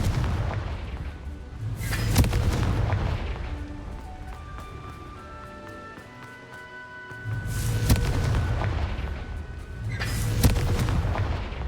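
A Confringo fire spell in Hogwarts Legacy goes off in loud, booming blasts, one at the start and two more near the end, with a rumbling, crackling tail and a quieter stretch between them.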